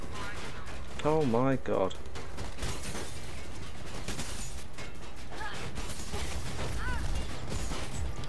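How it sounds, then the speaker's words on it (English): Bursts of gunfire in the video game Mirror's Edge crackle at the player amid mechanical clatter, with a person exclaiming over the shots. "Please stop shooting me."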